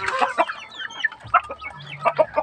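Backyard laying hens give a run of short, close clucks in a loose, irregular rhythm, fairly quiet, with no talking.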